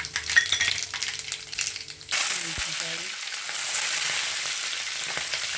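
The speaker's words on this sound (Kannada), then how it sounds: "ಎಣ್ಣೆ ಕಾದಿದೆ ನೋಡಿ, ಸಾಸಿವೆ ಹಾಕ್ಕೊಂಡು ಜೀರಿಗೆ ಹಾಕ್ತಾಯಿದ್ದೀನಿ" Mustard seeds and cumin dropped into hot oil for an onion curry, first some clinks and kitchen handling, then a sudden steady frying sizzle that holds close and even, with no talk over it.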